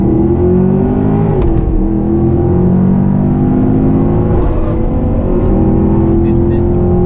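A 2018 Mustang GT with a Tremec Magnum XL manual gearbox revs loudly and close as a shift into third is missed, the engine note sweeping and droning, with people talking over it.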